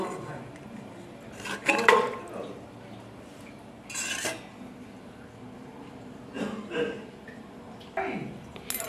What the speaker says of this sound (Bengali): প্রেশার কুকারের মধ্যে আমি মটনগুলো ঢেলে নিচ্ছি